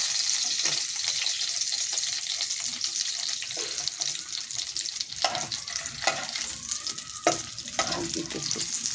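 Fish frying in hot oil while being lifted out of the pan gives a steady, close sizzling hiss, with a few sharp clinks and scrapes of a utensil near the end.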